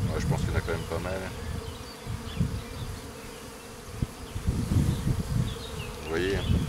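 A ground swarm of honeybees around an old black queen buzzes in a dense, continuous drone, close and loud throughout.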